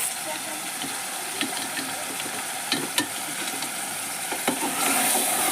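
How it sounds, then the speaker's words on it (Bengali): Beef curry being stirred in a pan after chilli powder and salt go in: steady sizzle and hiss with scattered scraping clicks from the spoon, fairly close and continuous, with no talk. "এবার একটু নাড়বো।"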